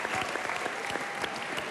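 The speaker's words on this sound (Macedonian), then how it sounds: "еден аплауз за него" A studio audience claps steadily for a singer's performance at a Macedonian Idol mini concert, dense continuous applause close and loud throughout.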